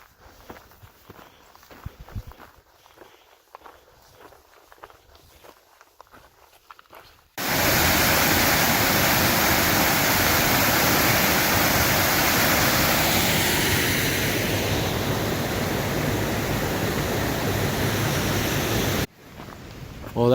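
A waterfall on a Colorado mountain hiking trail roars as a loud, steady rush that sets in sharply after several seconds of footsteps on the trail, then stays constant and drops away near the end.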